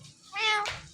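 A ringneck parrot imitates a cat's meow, one short rising-falling call heard close and fairly clear over a quiet room.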